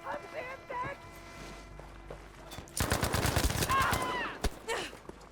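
Machine gun turret in Battlefield 5 fires a sustained burst of rapid, loud shots lasting a couple of seconds, with scattered single shots around it, while voices talk over the action.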